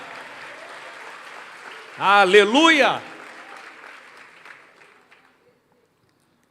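A church congregation applauds, a broad steady patter of clapping that briefly sits under a loud shouted voice, then thins out and fades to silence.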